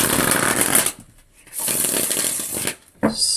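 A deck of tarot cards is shuffled in two quick, rustling bursts separated by a short pause, close and fairly loud, followed by a brief third flutter.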